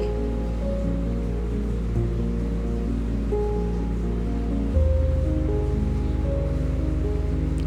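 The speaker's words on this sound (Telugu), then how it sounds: "ఇప్పుడైతే మిక్సీ పట్టుకుంటున్నానండి" An electric mixer grinder churns butter with a steady, close, loud motor hum and whir, shifting pitch slightly partway through, with no talk.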